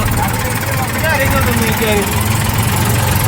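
A tractor engine idles with a loud, steady low rumble and rhythmic chugging throughout, with a voice faintly over it.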